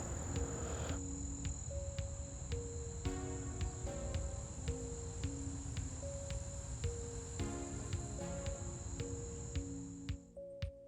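Cicadas or crickets in a steady, high-pitched chirring that carries unbroken through the whole stretch outdoors, with a faint tonal melody running underneath and no voices.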